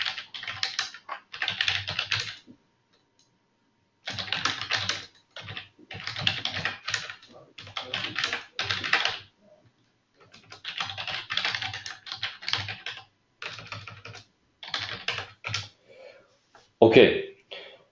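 Keys clatter on a computer keyboard in short, quick bursts separated by brief pauses, with a person talking at points.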